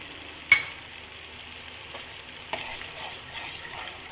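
Paneer curry masala with yogurt is stirred in a pan on low heat, a soft continuous simmering hiss with a sharp clink of the spoon early on and a few lighter scrapes later, no voices.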